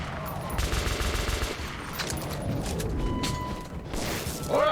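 Rapid automatic gunfire in a tunnel shooter game, loud bursts of fire with mechanical clatter, continuous across the stretch and ending in a louder burst.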